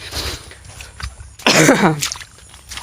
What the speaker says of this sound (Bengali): কাশি তো অল্প করে হয়েছে